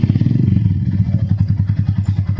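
A Yamaha motorcycle with its engine upgraded from 149cc to 183cc on a test ride, close and loud, its single-cylinder exhaust thumping in a fast, steady, pulsing beat.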